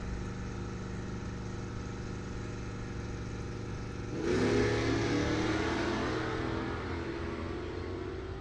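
Two drag cars, a 1970 Dodge Dart and a 1968 Camaro, idle loudly at the line, then launch together down the drag strip in a sudden roaring surge of revving engines that stays loud to the end.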